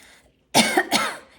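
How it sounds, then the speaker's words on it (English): A single close, harsh cough bursts out after a brief silence, breaking into two or three rough throaty pulses. "it's making me want to cough now just from smelling it"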